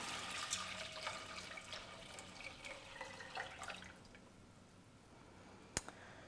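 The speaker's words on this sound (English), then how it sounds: "I'm going to add 1 quart of water." Water splashes and trickles steadily into a pot of chai spices, a soft continuous pour with small drips, then quieter, ending with a sharp clink.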